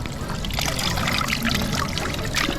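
Free drinking water in Switzerland poured into a glass, a continuous splashing trickle heard up close amid a busy background with no clear speech.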